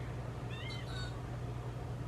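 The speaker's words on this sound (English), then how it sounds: "One of the cats." A cat meows indoors, one short faint mewing call in the middle, low and somewhat distant over a steady background hum.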